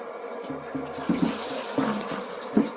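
Water poured into a bucket for soaking a deer hide, an uneven splashing and gurgling fill with intermittent low sloshing bursts, close and moderately loud.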